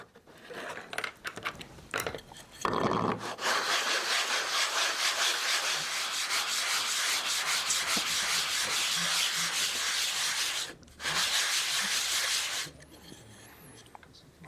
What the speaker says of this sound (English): I ran this across one face across the belt sander